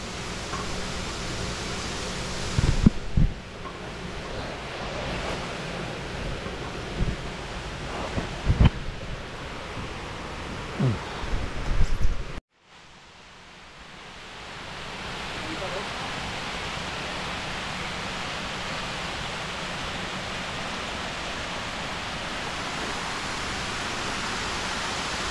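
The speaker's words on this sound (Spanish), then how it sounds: "Vean la cascada como le está saliendo vapor también de lo calientita." Steaming hot-spring waterfall in a hidden spot in Jalisco, a steady broadband rush of falling water that carries on for the whole stretch, with some bumps and handling noise in the first half before a brief dropout.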